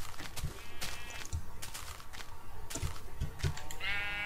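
Sheep in the Minecraft video game bleat repeatedly, several loud, close calls in quick succession over game noise, with no talking.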